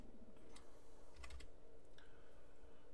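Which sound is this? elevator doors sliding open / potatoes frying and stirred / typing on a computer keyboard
typing on a computer keyboard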